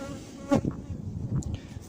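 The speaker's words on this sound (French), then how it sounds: "Les abeilles me tournent autour." Honey bees buzzing close around a beekeeper at an open hive, a soft insect drone with a louder pass near the ear and a few brief flyby swells.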